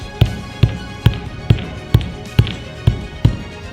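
Nine evenly spaced hollow knocks with a slight rattling buzz after each, from tapping on a delaminated sailboat hull at close range.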